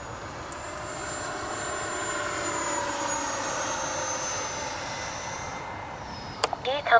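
A Freewing F-22 Raptor 80mm EDF radio-controlled jet flies an evening sortie, a steady whining jet hum holding fairly constant at moderate distance, with brief handling noises near the end.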